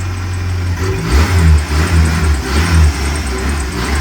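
A 1998 Ford Ranger pickup engine runs steadily at close range as the truck makes its first drive in reverse, a low rumbling drone with slight rises in revs and no talking.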